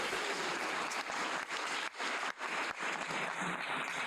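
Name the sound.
audience applause for speaker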